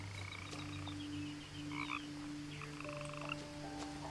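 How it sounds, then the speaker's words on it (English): A frog croaks in short repeated calls within the ambient outdoor soundscape of the video game What Remains of Edith Finch, heard alone without any speech. "I hear a frog."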